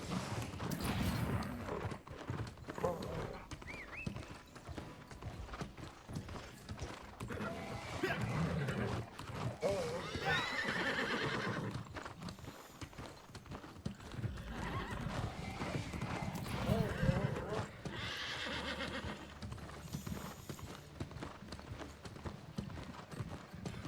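Horses gallop in a race in the video game New World, with rapid hoofbeats, snorts and whinnies layered over game sounds, steady and fairly loud throughout.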